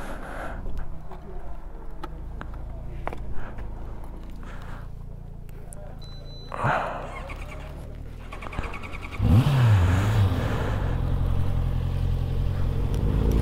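An Alpine sports car passes on a mountain pass road, its engine rising loud and close in the final seconds after a stretch of quieter road noise, with people talking in the car.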